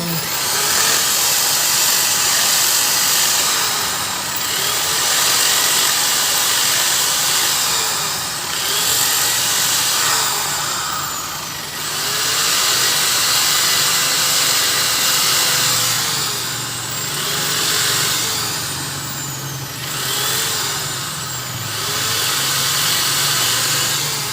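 Angle grinder fitted with a flat disc working on a broken bolt in a crankshaft flywheel, a loud steady high whine that rises and dips in several repeated passes, close and alone.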